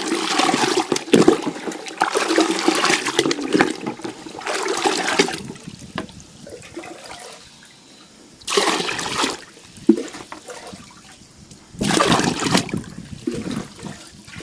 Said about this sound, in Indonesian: Nah, kemudian saya isi air sampai penuh ya.